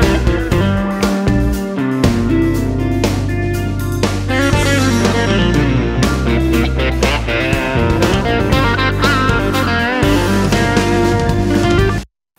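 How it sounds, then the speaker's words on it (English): Full guitar track from a Line 6 Helix preset, layered with delay, phaser, chorus and reverb, playing a dense, spacious, shimmering pattern that stays loud and continuous before stopping abruptly. "I used the delay to give it kind of a spatial sound along with the phaser and the chorus and blended those together."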